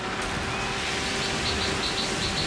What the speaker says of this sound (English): I got this, it's raining heavy.